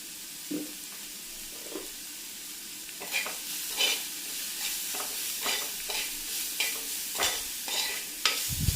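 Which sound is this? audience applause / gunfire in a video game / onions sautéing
onions sautéing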